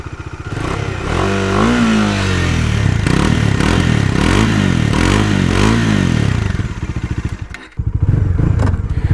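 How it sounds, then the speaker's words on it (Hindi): A Bajaj Dominar 400 Touring Edition motorcycle idles with a deep thumping exhaust and then revs several times in rising and falling blips, loud and close, before dropping briefly and picking up again. "एंड उससे पहले एग्जॉस्ट नोट सुन लेते हैं and then will ride it"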